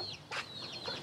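Soft clucks from a broody hen in short bursts, a few brief calls close by with faint rustling between them.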